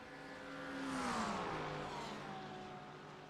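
A race car in a sim racing game at Road America roars past with a rising then falling engine whine, a second car droning underneath, moderately loud and steady throughout.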